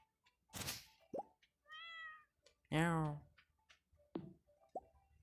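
Cat meowing in Stardew Valley: two distinct meows, one short and one longer and louder, mixed with plopping and clicking game sounds, while someone speaks Turkish between them.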